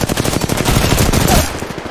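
Rapid automatic gunfire in the video game Apex Legends, a loud, dense burst of shots firing in quick succession before tailing off near the end.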